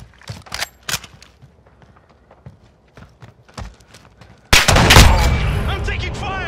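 Gunfire in a Call of Duty Modern Warfare gunfight: scattered sharp shots and taps, then a loud sustained burst of firing that stays dense to the end.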